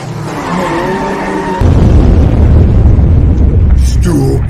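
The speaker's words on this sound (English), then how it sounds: "I found a clip of someone crashing into 3 parked cars" Car crash sound effect of a vehicle hitting three parked cars: tire noise builds, then a sudden loud impact becomes a sustained roaring crunch, ending in a few sharp clanks.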